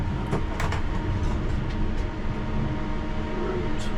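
A London Underground train rumbles along at close range, a steady loud roar of wheels and carriage noise with faint rattles and clunks, no voices.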